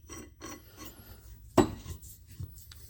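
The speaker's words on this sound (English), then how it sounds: "when we screw our test nut on it" A test nut turned by hand onto a 2 1/4 inch Whitworth thread, with a few soft metallic rasping scrapes close by and one sharper grinding scrape in the middle.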